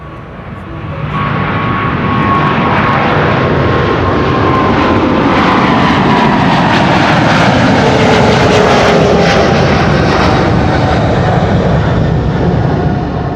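KLM flight 705, bound for Rio de Janeiro, departs runway 24 at Amsterdam Schiphol, a loud jet roar swelling within a second or two and then holding as a powerful, sustained rush up close.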